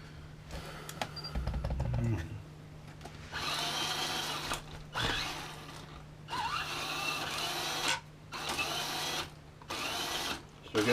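An Axial SCX10 RC crawler's swapped-in 35-turn motor whirs in several short bursts with pauses between them, close by, as it runs forward, brakes and reverses.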